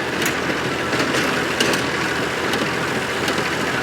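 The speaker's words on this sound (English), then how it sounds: "The 35 tractor there, it's obviously well on top of the job. You can't hear it knocking or banging, it's just smooth. The smooth Perkins diesel engine." A Massey Ferguson 35 tractor with a Perkins diesel engine runs smoothly while working with a square baler, giving a steady, even mechanical drone throughout with no knocking.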